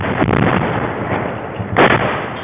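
Heavy explosive strikes near Bryansk, Russia: a dense, continuous roar with several loud booming hits, the strongest burst coming late, all at a distance.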